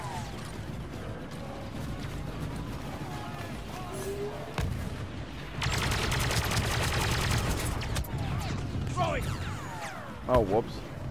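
Weapon fire and mechanical clatter in a Star Wars video game, with repeated shots and a dense burst of rapid firing midway over a steady background rumble.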